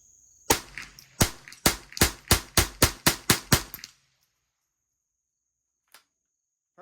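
A custom Ruger 10/22 rifle fires about ten sharp, evenly spaced shots in a fast magazine dump, each crack ringing briefly, followed by near silence with a faint click or two.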